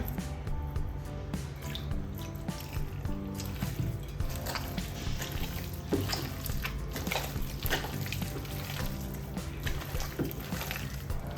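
Hot water is poured into ulli vada batter made with dosa batter, a steady, continuous trickle and splash running the whole time at moderate, close level with no talking.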